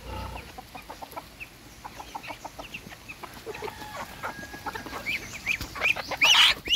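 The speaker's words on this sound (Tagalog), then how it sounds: "Yung mga manok ko." Backyard chickens cluck in short, scattered notes across the scene, with a louder burst of fowl calls rising near the end over faint ambient noise.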